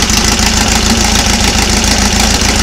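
An engine with a single-spring camshaft runs steadily on a test stand, a loud continuous close-up drone with a rapid even pulsing and no talk over it.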